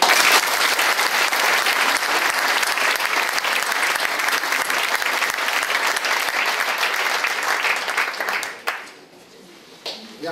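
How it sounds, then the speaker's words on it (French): Sustained applause from an audience at a municipal council inauguration session in Limay, dense and steady for about eight seconds before tapering off into a quiet room. "Vous pouvez les applaudir."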